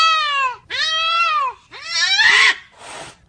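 A cat's angry cries: three drawn-out, harmonic yowls followed by a harsher hissing growl and a fainter rasping snarl, loud and close with no talking.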